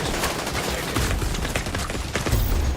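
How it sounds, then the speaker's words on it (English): Dense turret gunfire in The Division 2, rapid overlapping bursts and shots pounding without a break, loud and close, with a few heavier low thumps near the end and no talk. "Double turrets right there, fucking slaughtering us."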